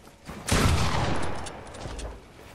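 Burst of gunfire in the Fortnite video game, a dense rattling volley from an AK-type rifle that swells loud and then tails off over a couple of seconds, with no talking.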